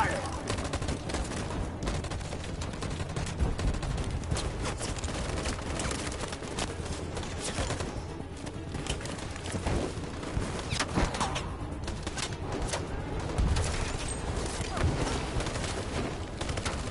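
Sustained volley of gunfire in Detroit: Become Human, dense crackling shots and bursts overlapping continuously at close range with no pause, with shouted voices buried among the shooting.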